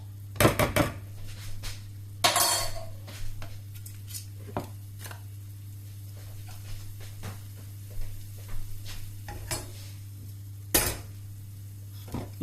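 Lardons stirred in a frying pan make scattered scrapes and clinks of a utensil against the metal, some sharp and some soft, spread irregularly over a steady low hum, with no talking.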